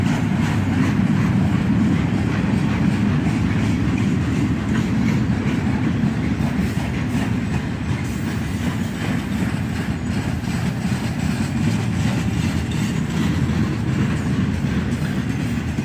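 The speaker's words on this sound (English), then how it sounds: "a Dash 8 leads this maintenance of way train" A maintenance-of-way train led by a Dash 8 locomotive, with flat cars carrying tampers and regulators, rumbles past steadily with rhythmic clickety-clack of wheels over rail joints, a continuous low mechanical roar throughout.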